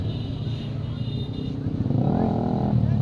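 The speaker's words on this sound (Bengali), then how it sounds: "বিরুলিয়া বাইকার রাস্তা কাঁপায় ফেলাইছে একেবারে" Motorcycles from a bikers' rally on Birulia road in Savar, a dense continuous engine roar with rising revs toward the end, loud and close, with crowd babble mixed in.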